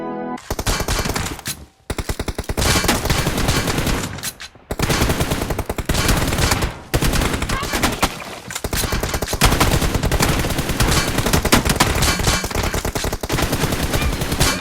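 Dense, sustained automatic gunfire from the mobile battle-royale game PUBG Mobile, loud rapid bursts running almost continuously with brief pauses between volleys.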